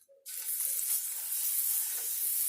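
Malaysian spiced pork patties drop into hot oil and sizzle loudly and steadily, a close, continuous frying hiss that starts abruptly and holds with no talking.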